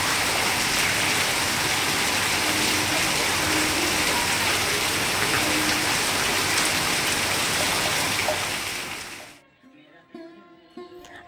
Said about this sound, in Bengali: দেখো কেমন মুষলধারা বৃষ্টিটা হচ্ছে